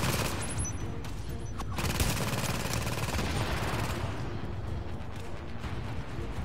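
A deployable turret in The Division video game unleashes sustained, dense automatic fire, a loud steady rattle with no break for several seconds.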